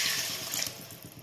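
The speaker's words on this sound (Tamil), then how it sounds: "இப்போ தேவையான அளவு தண்ணி சேர்த்துக்கோங்க." Water pours into a cooking pan for a dry fish curry, a brief, soft, steady splashing rush heard close with no talk.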